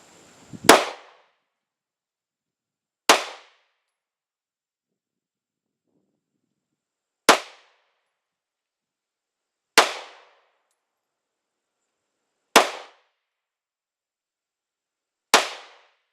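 Six Glock 19 Gen 5 pistol shots fired at 10 yards on a range, each a loud, sharp crack with a quick decay, spaced a few seconds apart with silence between them.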